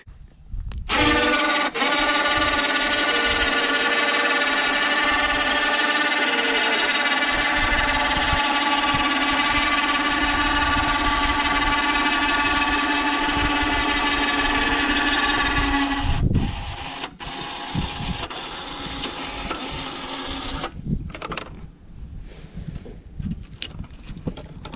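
A 3000 lb winch runs outdoors with a steady high-pitched motor whine for over fifteen seconds, then stops, leaving scattered clunks and softer mechanical noise; no talking.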